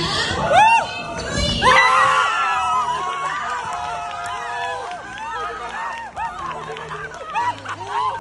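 University team members screaming, shrieking and shouting together right after winning a grand prize at an international competition, a dense, excited crowd of high-pitched cries rising and falling close by.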